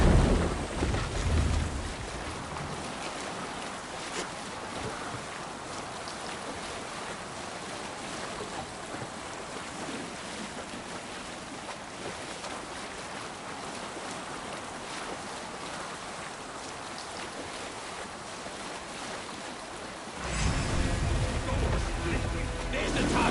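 A Viking longship at sea in Assassin's Creed Valhalla: steady wind, rushing waves and creaking hull, a continuous full wash of ocean noise that swells louder near the end.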